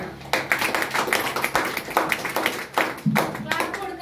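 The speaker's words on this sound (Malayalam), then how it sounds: "ഇദ്ദേഹത്തിന് നല്ലൊരു ക്ലാപ്പ് കൊടുത്തോണ്ട് നമുക്ക് തുടങ്ങാം." An audience at a Modicare opportunity meeting claps for the company chairman, a dense, steady round of applause filling the room from start to finish.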